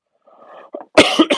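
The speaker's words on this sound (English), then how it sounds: "I've got a proper cough I can't get rid of" A man clears his throat softly, then breaks into a short burst of two or three harsh, close coughs from a lingering cough.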